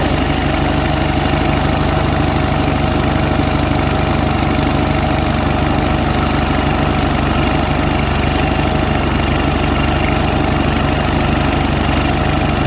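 A steady, close idle from an Onan US military generator engine running without choke, its fast regular putter unchanging throughout with no talking.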